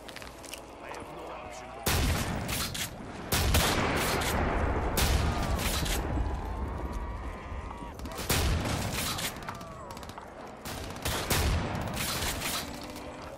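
Rapid bursts of gunfire from an HG-40 submachine gun in Black Ops 3 custom Halloween zombies maps, sharp repeated cracks in clusters across the clip, with players talking over the shooting.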